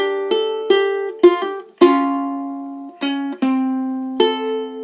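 A ukulele plays the closing verse-ending phrase of a song in plucked single notes and chords, each ringing briefly before the next, clear and close with no voices.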